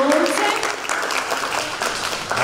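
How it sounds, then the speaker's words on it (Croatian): An audience at a book launch applauds the actors, a full, steady round of clapping that swells and holds, with some voices audible under the applause. "aplauz za naše hrabre glumce"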